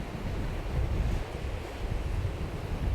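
Rough sea surf and strong wind on Gapado island off Jeju, a loud, continuous roar of breaking waves with gusting wind buffeting the microphone throughout.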